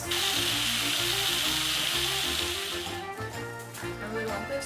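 Bacon sizzles in a pan for soup, a bright steady hiss heard under music-like tonal background and voices, strongest at first and easing slightly later.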